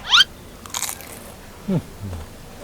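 Thick fried Thai sausage stuffed with minced pork is bitten with one sharp, loud crunch at the start, followed by quieter chewing and a few soft low thumps close to the microphone.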